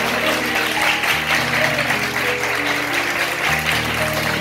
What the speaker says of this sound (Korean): 사람들은 올레를 외치며 일제히 환호하기 시작했다.